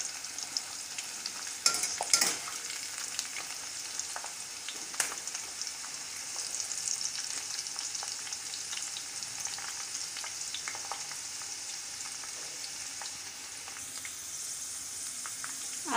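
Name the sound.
corn frying in a pan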